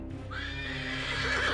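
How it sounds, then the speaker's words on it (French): A horse whinnies in a long, rising and wavering neigh, loud and close, with no talk over it and faint hoof movement underneath. "surpris par les hennissements de son cheval"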